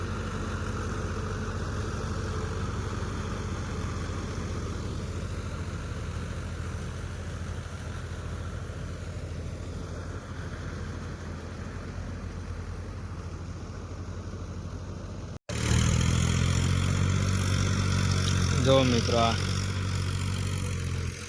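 A Mahindra 585 tractor engine runs steadily in a muddy paddy field during rice transplanting, a continuous low rumble that stays near and fairly loud, briefly cutting out before resuming louder, with someone talking over it.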